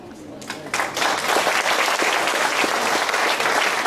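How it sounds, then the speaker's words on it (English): Audience applause at a Diamond Jubilee celebration in Alcossebre, a full room clapping loudly and steadily after a quiet start, with some voices mixed into the crowd. "Please, ladies and gentlemen, a round of applause."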